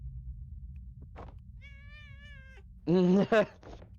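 A cat cries in the video game Impostor Factory, a drawn-out plaintive meow followed by a louder, strained wail and a short second cry, set over quiet background music.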